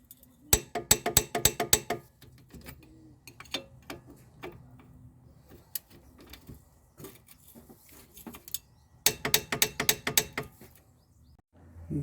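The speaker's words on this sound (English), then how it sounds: "So we're going to torque the strut to 113 foot-pounds in each one." Torque wrench clicking and ratcheting on the front strut bolts of a 2005 Toyota Corolla 1.8, set to 113 foot-pounds: close bursts of rapid mechanical ticks, a quieter stretch of scattered clicks, then another fast burst.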